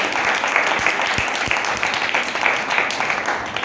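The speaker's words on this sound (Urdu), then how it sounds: "زوردار تالیاں یسوع مسیح کے جلال کے" Congregation applauding loudly in a church service, a steady dense wash of clapping throughout with a few sharper individual claps standing out.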